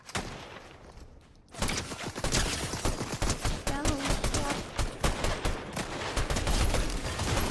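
Gunfire in Fortnite, with rapid loud bursts of shots starting abruptly after a quieter moment and continuing in clusters, close and sharp.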